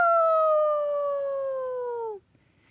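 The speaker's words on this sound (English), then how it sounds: "another ghostly howl filled the air" A long, eerie dog howl holds a steady tone and slowly slides lower before cutting off abruptly, loud and close with no talk.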